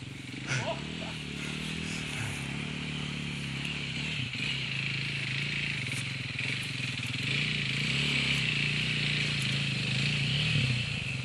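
An enduro motorcycle engine runs nearby at a steady buzzing hum with strong overtones, holding an even level throughout while people talk over it now and then.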